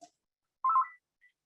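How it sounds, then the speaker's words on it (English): A phone rings briefly during a book talk, giving one short electronic tone burst followed by a faint blip, alone against near silence. "Excuse me for that phone, I will turn it off."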